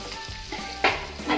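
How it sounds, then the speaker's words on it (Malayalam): Three tablespoons of butter sizzling in a hot pan, a steady close frying hiss with a couple of sharp crackling bursts. "പാൻ നന്നായിട്ട് ചൂടാകുമ്പോൾ ഇതിലോട്ടേക്ക് ഒരു 3 ടേബിൾ സ്പൂൺ ബട്ടർ ഇട്ട് കൊടുക്കാം."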